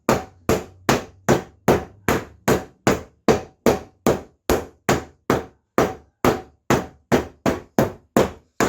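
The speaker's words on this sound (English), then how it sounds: "So I tend to use the hammer effect" Sharp metallic hammer blows strike a shoe heel on an anvil in a steady rhythm, about two per second, loud and close, with no talking.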